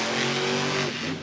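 A Monster Jam monster truck, Son of a Digger powered by Hoonigan, roars loudly as its engine revs hard at the start of a run in a stadium, a dense, continuous engine blare that eases slightly at the end.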